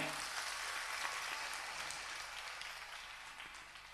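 A church congregation claps together in thanks to God, a dense, continuous wash of applause from many hands that gently fades over a few seconds.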